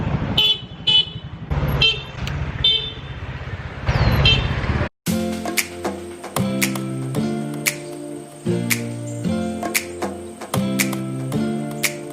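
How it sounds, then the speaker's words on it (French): Car horns honk repeatedly amid busy street traffic at an intersection in Myanmar, short toots and longer blasts overlapping against a steady engine rumble. "Ils klaxonnent pour dire attention, je vais passer."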